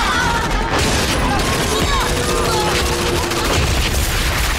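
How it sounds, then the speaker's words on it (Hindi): Sustained machine gun fire in a sniper movie battle scene, dense and loud bursts crackling continuously over noisy background action throughout. "अब वो मशीन गनों से गोलियां चला रहे हैं"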